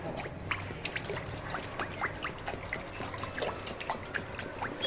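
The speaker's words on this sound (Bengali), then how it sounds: "আমি তো জল বেশি দিচ্ছি কারণ আমি চিকেন আর পেঁপে পাতলা ঝোল বানাবো" Water poured into a pot of chicken and papaya curry on a gas stove, a steady, faint trickle with soft splashes and drips, heard alone and close.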